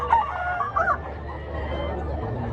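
A rooster crows once at a rooster expo in Mantalungon, Barili, Cebu, a fairly close call rising and falling over a steady crowd murmur, with a few faint clucks and background voices.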